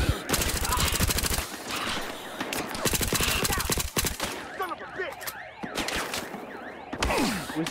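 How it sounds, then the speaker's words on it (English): Gunfire in Battlefield Hardline, rapid automatic bursts and single shots near and far across an outdoor map by a golf course and shooting range, with sirens and game effects mixed in and a continuous busy din throughout. "Who's this man shooting at me?"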